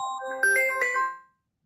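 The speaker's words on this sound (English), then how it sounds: "Must be an important phone call." A phone rings briefly with a short electronic chime of bright, tinkling tones, heard once for about a second before cutting off into silence.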